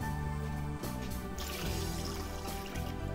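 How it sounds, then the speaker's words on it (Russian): Water pours steadily into a pot of meat for kholodets, a continuous splashing gush that shifts in tone as the level rises, with a brief break partway through. "Заливаем водой, покрываем полностью водичкой."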